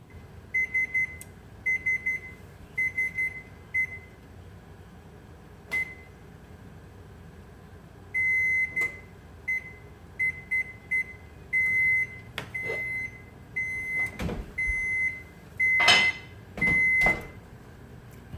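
An oven's control panel beeps repeatedly while the temperature and timer are set, sharp electronic tones in short bursts and clusters, some single, some held longer, over a quiet kitchen hum, with a few clicks and thumps in between.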